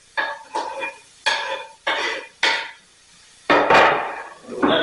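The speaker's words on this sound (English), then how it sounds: "now I'm going to drop my garlic" Garlic dropped into a hot pan of softening onions, giving a series of about seven short, close clattering scrapes and stirs, each followed by a brief sizzle, with no talking.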